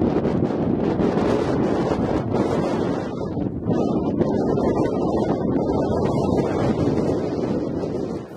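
Strong wind buffets a microphone fitted with a furry deadcat windshield, a loud, continuous low rumble with gusty surges and no voice.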